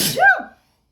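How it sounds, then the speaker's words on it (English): A single sharp sneeze bursts out close by, a quick breathy explosion with a voiced tail, then silence. "I feel a sneeze coming."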